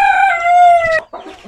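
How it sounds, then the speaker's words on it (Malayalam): A native crested Thoppi rooster lets out a single loud, close crow that lasts about a second and breaks off abruptly, followed by a brief faint rustle. "അത്യാവശ്യം നല്ല ഭംഗിയാണ് ഇതിനെ കാണാൻ, നല്ല എടുപ്പുള്ള ഒരു കോഴിയാണ്"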